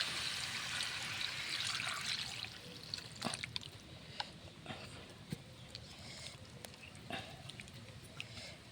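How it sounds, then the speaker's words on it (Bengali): Broth poured into a simmering potato and pointed gourd curry makes a steady, close splashing pour at the start. It then gives way to quieter bubbling with scattered ticks and clinks. "আলু পটল লেবু ডাঁটা সুন্দর করে কষানো হয়ে গেছে, এখন আমি ঝোল দিয়ে দেব।"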